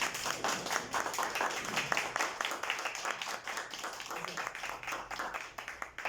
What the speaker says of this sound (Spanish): Por favor, les pido un aplauso a los 3 ponentes